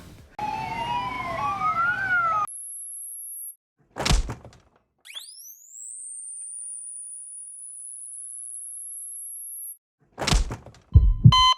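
A wailing siren sweeps up and down briefly, then cuts to thuds and a long rising electronic whine with sharp clunks at the end.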